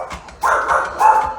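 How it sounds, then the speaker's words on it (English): Dogs bark at someone outside a home kitchen, a few sharp yapping barks in two bursts at moderate distance, with no talking over them. "you gotta excuse my dogs. They see somebody outside."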